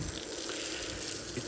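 Water thrown or splashed out at a farm on a hot day, heard as a steady rushing, pouring wash that runs unbroken through the whole short moment with no voices.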